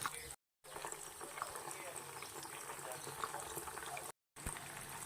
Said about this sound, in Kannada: ಈಗ ಅಣಬೆ ಏನಿರುತ್ತಲ್ವ ಅದನ್ನು ಇವಾಗ ಒಂದೊಂದಾಗಿ ನೀವು ಎಣ್ಣೆನಲ್ಲಿ ಎಳೆ ಬಿಡ್ತಾ ಹೋಗಿ